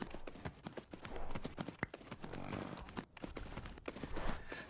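Rhythmic hoof clip-clop from a horse in the video game Tales of Rein Ravine, steady footfalls over a continuous game ambience, fairly close and even in loudness.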